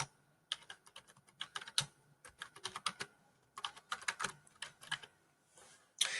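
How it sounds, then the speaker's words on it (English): Someone types on a computer keyboard, entering text into a Microsoft PowerPoint 2019 slide. The keystrokes come in quick irregular bursts with brief pauses, close and fairly quiet, and no one speaks. "I'm going to type the way the book tells me to"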